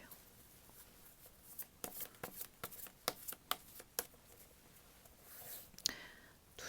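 Tarot cards being shuffled in a quiet room, a run of soft crisp riffling snaps and flicks, close and fairly faint, with a longer brush of cards near the end.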